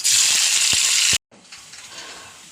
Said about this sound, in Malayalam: അപ്പുറത്ത് കാച്ചാള ചട്ടി വെച്ച് എണ്ണ ചൂടായി ഉള്ളി ഇടുന്നു